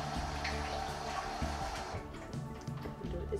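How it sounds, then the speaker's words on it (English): Tap water runs steadily into a sink while hands are washed beneath it, a close, continuous splashing rush that thins out toward the end with small clinks and drips. "Just going to wash my hands."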